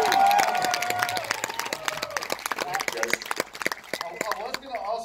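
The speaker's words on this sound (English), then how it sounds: "I think you heard the crowd in front of me." Festival crowd applauds after a documentary screening about a free solo rock climber, a mix of clapping and cheering mingled with loud nearby talk, fading and thinning toward the end.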